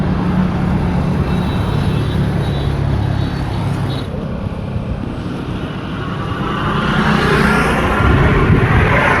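Electric scooter carrying roughly 250 kg of riders, running along a road with a steady broadband rumble of tyres and wind that swells louder toward the end.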